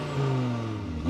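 Cupra Formentor VZ5 with the Audi five-cylinder engine shared with the Audi RS3, a loud, close engine note held steady through a brief acceleration, rising slightly at the end.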